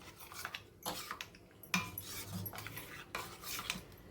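A utensil scrapes and clinks against a bowl as starch paste is stirred into water for saree rolling. The sound is quiet and close, a series of irregular metallic taps and swirls.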